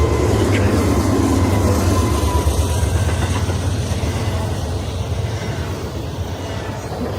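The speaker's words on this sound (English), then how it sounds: "That's a train." A passing train makes a heavy, continuous low rumble that fades slightly over several seconds and is heard from indoors without other sounds on top.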